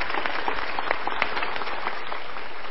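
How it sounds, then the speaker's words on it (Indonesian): A studio audience at a Mario Teguh Golden Ways talk show in Jakarta gives a round of applause, a busy, steady patter of many hands clapping at moderate loudness throughout the short burst. "Untuk yang memilih A, kita berikan tepuk tangan."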